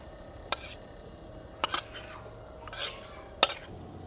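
Cooked tomatoes are moved onto another plate in a home kitchen, with a few sharp, separate clinks of steel dishes and utensils and some light scraping in between, close and fairly quiet.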